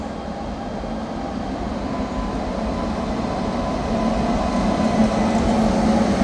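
An electric goods train on a trial run along the newly electrified Yelahanka–Bangarpet railway line rumbles steadily and fairly loudly throughout, a continuous low rolling drone that swells slightly toward the end, with no voices.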